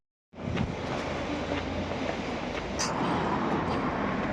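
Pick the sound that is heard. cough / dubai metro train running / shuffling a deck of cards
dubai metro train running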